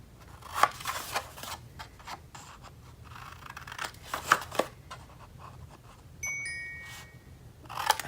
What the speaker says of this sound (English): so then we're going to go ahead and trim our corners.